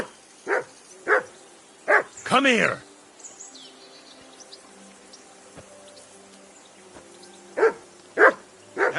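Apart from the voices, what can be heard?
dog barking in Kingdom Come Deliverance 2 video game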